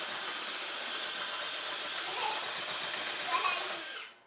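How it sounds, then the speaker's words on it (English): An iRobot Looj gutter cleaning robot runs its auger, giving a steady, close, hissing whir that holds for about four seconds before cutting off, with no talk. "I'm going to first start going forward and then hit the auger."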